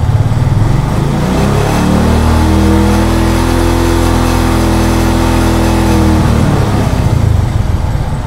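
Motorcycle engine revving hard as the throttle opens during a voltage test of a genuine Honda Tiger regulator-rectifier on a full-wave charging system, a loud sustained roar rising in pitch, then easing back.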